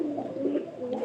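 A pigeon in its coop gives a short, close, low coo, repeated in soft rolling pulses; the bird had grown thin from the cold.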